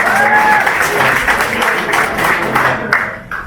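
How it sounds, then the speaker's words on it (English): A room of people clapping steadily for a few seconds at a magic demonstration, the applause moderately loud and fairly close, fading slightly toward the end. "Give a nice round of applause"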